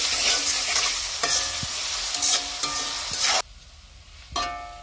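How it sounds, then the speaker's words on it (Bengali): Onion and garlic frying in a pan for jute leaf (pat shak) bhaji, loud sizzling broken by repeated stirring scrapes, then a sudden drop to a quieter sizzle before another stir. "বাদামি কালার করে ভেজে নিব"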